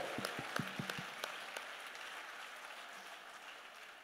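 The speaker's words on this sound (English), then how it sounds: "I think he deserves another round of applause" An audience gives a round of applause at a Ghanaian diaspora event, a handful of distinct claps that thin out within a second or so into soft, diffuse room noise.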